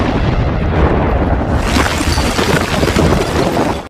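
A loud, sustained explosion blast from the James Bond film Spectre, a dense roaring rumble with debris that swells brighter halfway through and holds close and heavy for several seconds without pause.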